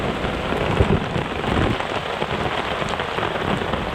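Heavy rain pours down on an outdoor construction site, a dense, loud, unbroken roar of drops hitting surfaces, with no voices over it.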